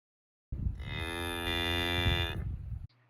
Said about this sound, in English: Do you know what sound a cow makes?